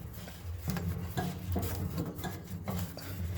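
A rear gas tank on an Early Bronco scraping and rubbing as it is worked loose and slid out, a close series of gritty metallic drags and bumps with no talk.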